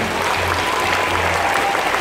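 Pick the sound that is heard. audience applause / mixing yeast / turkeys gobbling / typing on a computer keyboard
audience applause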